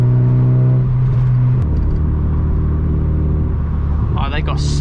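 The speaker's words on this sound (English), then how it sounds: "Tap the throttle, and you hear it bang." A Mazda MX-5 Mk2 engine hums steadily, then drops off as the throttle lifts, with a brief sharp exhaust pop and a voice speaking near the end.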